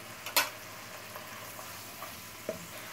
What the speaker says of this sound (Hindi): तो 4 टेबलस्पून मैंने इसमें सोया सॉस के शामिल कर दिए।